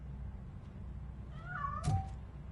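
Cat escaping in the RoboCop: Rogue City game lets out one short, close meow over a low background hum.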